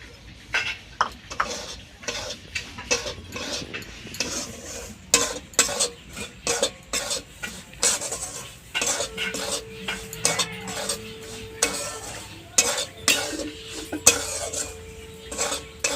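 Semolina dry-roasting in a wok with a metal spoon, heard as rapid repeated scraping and clanking of utensil against pan, close and continuous, with a faint soft sizzle underneath.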